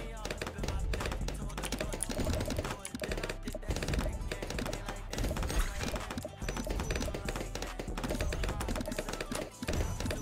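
Rapid, dense computer keyboard key presses while playing Bloons TD Battles 2 clatter steadily throughout, close and busy, with some background noise mixed in.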